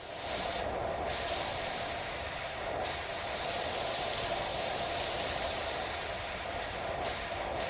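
A pressure washer sprays continuously while washing a car in PowerWash Simulator 2, a loud, steady hiss of water with brief high-pitched interruptions as the stream shifts, heard alone without talk.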